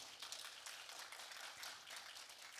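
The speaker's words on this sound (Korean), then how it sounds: "다시 한번 큰 박수 부탁드립니다" An audience claps steadily at a business support briefing in Sejong, a dense, even patter of many hands that holds without a break and sounds somewhat distant and quiet.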